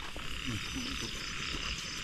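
Frogs croak outdoors after rain, soft repeated calls set against a dense, steady chorus, moderately distant and fairly quiet.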